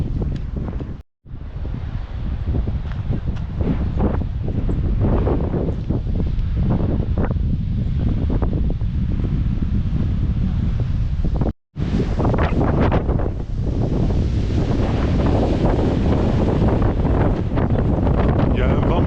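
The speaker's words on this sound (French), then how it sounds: "Il y a un vent violent." Strong wind roars across the microphone on the Fitz Roy hike in Patagonia, a loud, constant gusty rumble lasting throughout with two brief dropouts.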